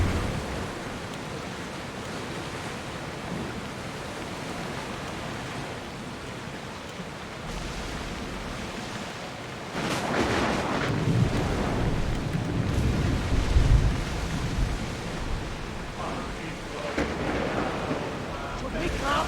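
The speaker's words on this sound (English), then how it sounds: "don't like the look of that storm!" Stormy sea waves and gusting wind in the Assassin's Creed Odyssey video game, a steady broadband roar that swells louder and rougher about halfway through, with low surging crashes.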